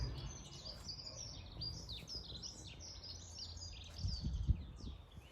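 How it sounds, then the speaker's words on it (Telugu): Several birds chirp and sing in an early spring garden in March among flowering camellias, with quick overlapping high tweets in a steady chorus over a soft, low background rumble. "స్ప్రింగ్ అంటే వసంతం కదా పక్షులు హ్యాపీగా పాటలు పాడేసుకుంటున్నాయి వినండి పక్షుల కిలకిల రావం అనమాట"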